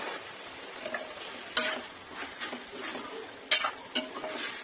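A few sharp utensil clicks and scrapes sound against a pan over a quiet, soft sizzle of chicken frying, spaced irregularly, with no talking.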